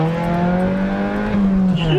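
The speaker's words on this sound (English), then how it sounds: "Did you just downshift into first?" A car engine drops into first gear, its steady loud hum rising slightly in pitch as the revs climb near the listener, with no talk.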